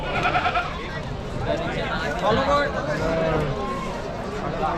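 Goats bleat repeatedly amid a noisy outdoor goat and sheep market in Chakan, Maharashtra, with people talking in the background.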